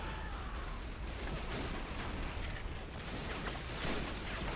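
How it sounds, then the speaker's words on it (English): In a video game battle of Washington, an artillery battery fires cannons, a dense roar of distant booms and rumbling blasts with no clear gaps. "Both batteries firing."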